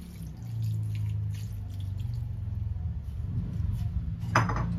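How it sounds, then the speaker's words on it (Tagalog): Water added to a pot of pinakbet vegetable stew, with soft splashing and dripping beneath the clink of utensils and pot, close by, ending in a sharper clatter. "Lagay tayo ng tubig kasi may alat eh."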